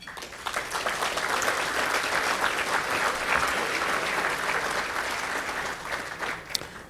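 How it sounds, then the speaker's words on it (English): Loud, sustained applause from a gala audience, a dense continuous wash of many clapping hands that holds steady for several seconds with a few sharper claps standing out near the end. "Please join me in a loud round of applause for you,"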